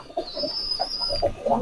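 A copper-coloured male pigeon coos close by in a short series of soft, low throaty notes, with a faint high whine running behind.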